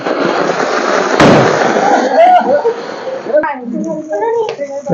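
A Diwali firecracker bomb goes off outdoors with one sharp, loud bang about a second in, leaving a noisy rush and crackle, while children and adults talk and shout around it.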